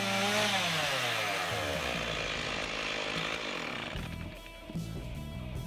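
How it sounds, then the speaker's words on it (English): A chainsaw runs continuously for several seconds, its buzzing engine rising and falling in pitch as it revs and cuts, fairly close and loud with a brief dip near the end and no talking. "the sound of the chainsaw itself is a lot more intimidating than actually using it"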